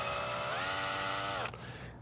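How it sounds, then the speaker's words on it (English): A small power drill bores peg holes into a 3D printed cosplay mask, giving a steady high whine that shifts pitch midway as the bit bites, then cuts off abruptly near the end. "Just have to drill these out."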